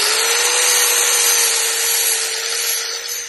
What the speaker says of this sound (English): using my little flat grinder, flat disc to get rid of the paint around that edge there